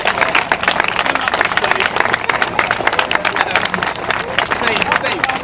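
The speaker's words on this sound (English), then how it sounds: "So I think a big round of applause to them." Steady, loud applause from an outdoor crowd at an athletics event on a running track, honouring four world record holding milers, with dense sharp claps sustained throughout and faint crowd murmur underneath.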